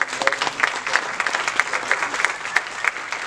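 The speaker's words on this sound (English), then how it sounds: "a big round of applause for putting together this conference" A short burst of applause from a conference audience, crisp close clapping with uneven peaks, no voices over it.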